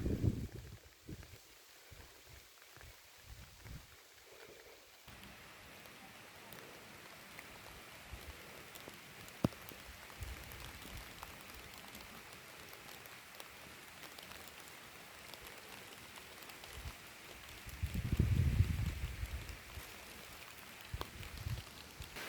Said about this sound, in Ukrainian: Дощ іде, липа пахне.